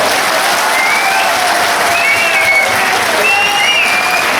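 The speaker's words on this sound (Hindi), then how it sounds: "ताली बजा दो" Loud, dense clapping from a crowd of workers at a rally over employee demands, sustained evenly throughout, with faint whistles or shouts rising above it.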